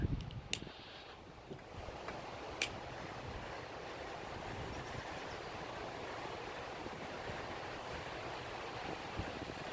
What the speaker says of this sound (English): this wind is really blowing this flame back towards me